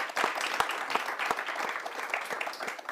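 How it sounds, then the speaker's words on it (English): Theater audience applause fills the room, a steady, dense patter of many hands clapping with a few sharper claps standing out, holding at even loudness throughout. "I have to get used to applause."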